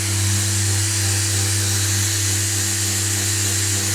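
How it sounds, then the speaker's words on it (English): Steady, continuous whine of an electric sander with coarse 80-grit paper running on wood, with a constant low hum and broadband grinding hiss throughout, close and loud. "I'm currently sanding it with 80 grit, a very coarse grit, just to get all the saw marks off"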